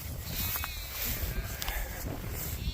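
Sheep bleat over a windy outdoor pasture, several wavering, nasal calls rising out of steady rumbling wind noise, some near and some farther off.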